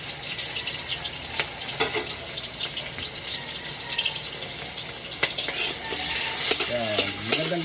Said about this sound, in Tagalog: tayo ay magigisa muna. Pwede sabay na rin, bawang sibuyas.